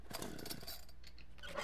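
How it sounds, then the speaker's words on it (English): A chainsaw in the horror video game Office Horror Story: Arrival of the Chainsaw Killer, revving in quiet, uneven bursts that rise and fall, heard faintly with no talk. "Is Mr. Chainsaw Wielding Maniac out there?"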